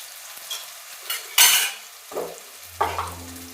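Sabudana khichdi with spices is stirred in a pan: a few distinct scraping, sizzling strokes, loud and close, separated by short pauses, with no talk.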